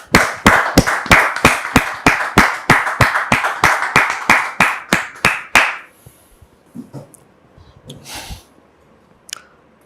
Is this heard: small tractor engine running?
no